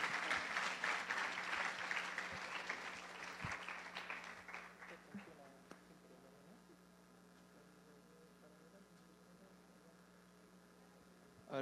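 A conference audience applauds to welcome a speaker, with dense, moderately loud clapping that fades over several seconds and leaves a quiet room with a low electrical hum.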